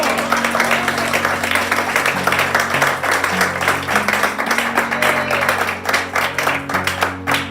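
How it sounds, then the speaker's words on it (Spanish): Congregation applauding in church during a sermon, a long, full round of rhythmic clapping from many people, loud and steady, with low voices and sustained tones underneath. "¿Cuánto le damos un aplauso al Señor?"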